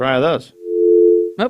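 A steady electronic phone-system tone holds for most of a second between two short bursts of speech.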